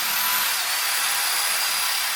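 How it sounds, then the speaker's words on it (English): Sandpaper working down the sides of a wooden wine stopper gives a steady, close, even abrasive hiss that runs without a break or any speech. "I'm going to have to sand down the sides"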